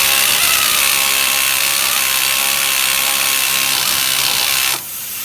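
An air ratchet whirs loudly and continuously while removing sway bar linkage on a muscle car, a harsh steady buzz close up that cuts off abruptly just before the end, leaving quieter shop background.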